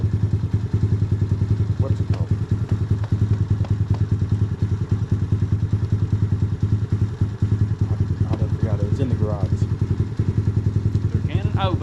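Yamaha TT-R90 dirt bike engine running a little rough, a close, steady rapid thumping putter throughout, with people talking over it.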